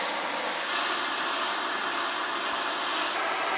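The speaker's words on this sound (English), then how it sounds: "Hopefully the heat from the torch will dislodge the rings" A torch flame heating a seized piston and its rings, a steady loud roaring hiss close at hand that holds without pause for a few seconds.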